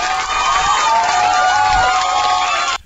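Big applause sound effect played on a broadcast: dense, loud clapping and cheering from a large crowd roll on continuously for about three seconds, then cut off abruptly.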